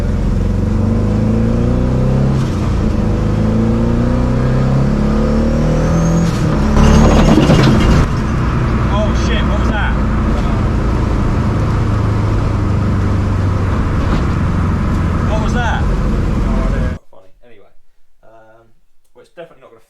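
Little Red, a turbocharged car, accelerates with a loud, droning engine that climbs through rising harmonics, surges briefly mid-run, then cuts off abruptly to near quiet; a voice is heard over it.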